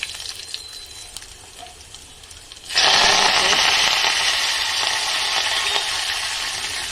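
Garlic, red chilies and onions hit a hot pan and start frying, a loud steady sizzle bursting in suddenly about a third of the way in and holding through to the end, with quieter kitchen noise before it.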